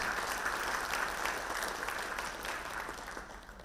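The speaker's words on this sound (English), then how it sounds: "let's have a round of applause for that" Steady applause from the audience at a mechanical engineering summit's opening address in an indoor hall, dense and continuous, fading slightly toward the end.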